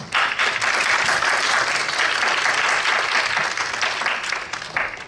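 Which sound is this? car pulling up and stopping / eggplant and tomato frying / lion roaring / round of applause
round of applause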